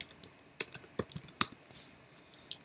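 Rapid typing on a computer keyboard while setting up a Git repository, close and crisp, with irregular clusters of key clicks and no talking.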